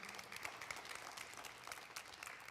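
Applause from a congregation during a church sermon, a fairly faint, diffuse wash of clapping heard from a distance, steady across the whole stretch with no voices on top.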